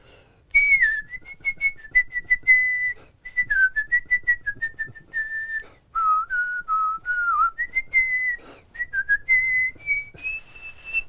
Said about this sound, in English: I thought I'd show off and give him a burst of my own whistling skills.